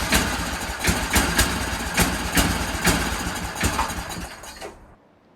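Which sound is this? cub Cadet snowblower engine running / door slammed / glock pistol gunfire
cub Cadet snowblower engine running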